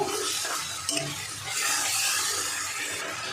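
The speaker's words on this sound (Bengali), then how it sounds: "এবার মিশিয়ে নেব।" A spoon stirs sauce into chilli egg potato in a pan, producing a soft, continuous wet sizzle and swishing with a faint clink near the start.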